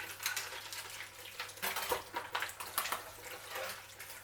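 Water splashing and running over an orchid pot basket as it is rinsed out, with irregular close splashes and faint handling knocks in quick uneven bursts, fairly quiet and without talk.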